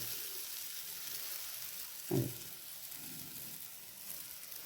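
A vegetarian burji, an eggless scramble, fries in oil with a soft, steady sizzle, and a single dull knock from a spoon or pan comes midway.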